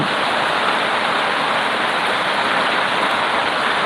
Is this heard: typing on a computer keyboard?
no